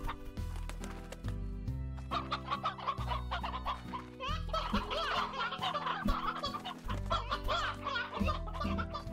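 Chickens cluck repeatedly in Slime Rancher, a busy overlapping chorus of fowl calls over steady game music, loud and close with no talk.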